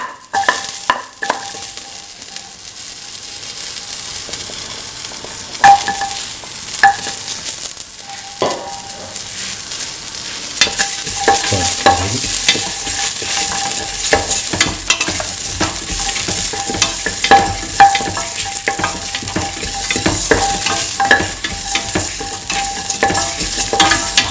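Shallots, ginger, red chili and fennel seeds fry in hot oil, producing a loud, bright, continuous sizzle broken by frequent scraping and clinking stirs, with no talking.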